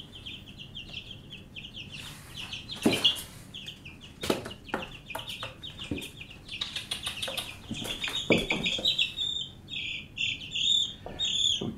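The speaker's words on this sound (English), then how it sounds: "there is one of our black Australorp chicks" Black Australorp chicks peep and cluck up close, with shrill chirps coming in irregular bursts, some louder and busier than others, in a summer yard setting.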